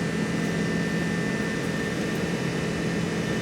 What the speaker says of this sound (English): Nice takeoff roll.